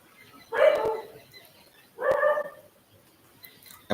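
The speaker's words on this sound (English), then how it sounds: "Apologies for the dogs barking outside as well." Dogs bark outside an open window in two separate bursts, each lasting about half a second to a second. The barking is moderately loud with a slight distance to it, and quiet background fills the gaps between bursts.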